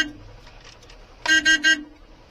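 A car's horn gives three short, loud toots in quick succession at a bike that stopped suddenly ahead on the road, following quiet cabin noise.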